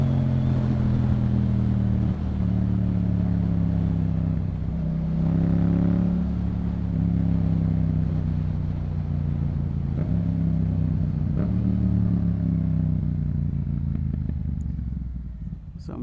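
A Yamaha MT-07 motorcycle with a Yoshimura exhaust pulls away hard, its engine droning loud and close as the pitch climbs through several gear changes, each marked by a brief dip before the rising note resumes.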